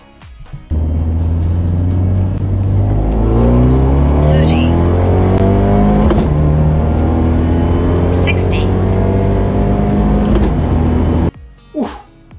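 A tuned Fiat 124 Spider Abarth accelerates hard, its engine note climbing through repeated rising sweeps broken by quick gear shifts, loud and close, ending abruptly with a brief lower rumble.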